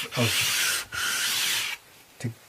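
Micro-mesh abrasive rubbed by hand over the frets of a 1983 Japanese Squier Stratocaster during a refret, heard as close, gritty back-and-forth strokes in two long passes followed by a short scrape.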